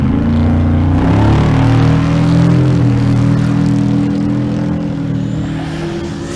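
Supercharged LS-powered Volvo wagon drag racing at Kearney, Nebraska, its engine roaring loud and close with rising harmonic tones as it accelerates, then fading slightly toward the end.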